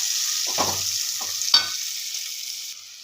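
Okra pieces fry in hot oil with a steady bright sizzle throughout, broken by a few low scraping stirs of a spoon against the pan, with no one talking.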